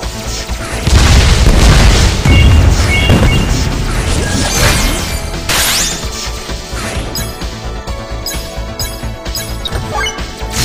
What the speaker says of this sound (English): Erosion rocket.